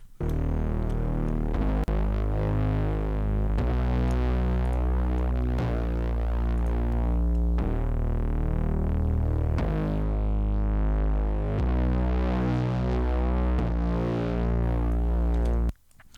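Bass guitar run through a compressor plugin with slow attack and fast release, heavy gain reduction; deep sustained low notes change every couple of seconds in a steady, even line, loud and alone with no talk.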